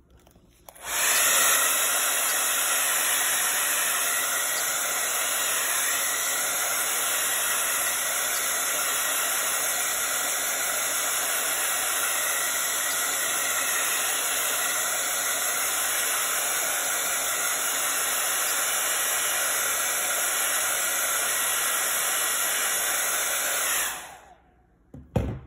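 A blow dryer runs at steady full power for about twenty seconds, a loud constant airy roar with a high whine, then switches off.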